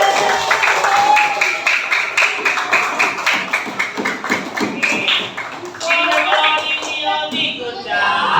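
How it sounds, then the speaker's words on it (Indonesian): A classroom breaks into applause, many hands clapping in a dense, lively patter for several seconds that thins out toward the end, with voices mixed in. "Tepuk tangan buat kita semua"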